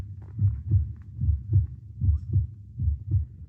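A pounding heartbeat sound effect: deep, muffled double thumps repeating in a steady, fairly quick rhythm, close and prominent with no talking over it.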